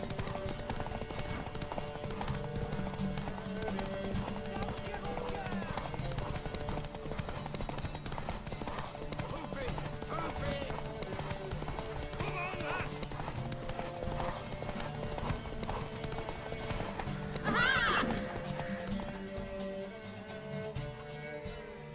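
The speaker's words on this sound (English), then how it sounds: "Worthy of the best horse. The mare is yours." Steady clip-clop of horse hooves trotting in The Witcher 3: Wild Hunt, with a brief whinny near the end over a faint musical backdrop.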